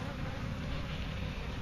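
Honey bees buzz at a hive entrance in Wellington, Florida, where guard bees are fighting off a robber bee. The hum is a steady, close, dense drone with no break.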